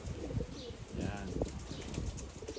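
A racing cock pigeon coos softly and beats its wings in bursts, fairly faint and close, with quiet people talking in the background.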